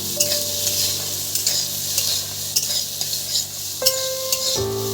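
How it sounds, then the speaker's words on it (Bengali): Green peas fry and sizzle in a kadai as a spatula stirs them, giving steady crackling with repeated scraping strokes against the metal and a faint tonal hum in the background. "একটু নেড়ে চেড়ে নেবো"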